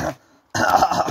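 A single cough, short and close, comes after a brief silence and is loud and rough.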